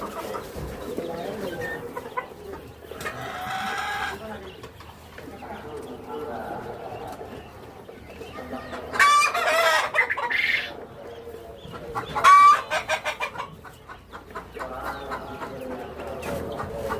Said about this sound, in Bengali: বিদেশি মুরগি তো, বিদেশি মুরগি।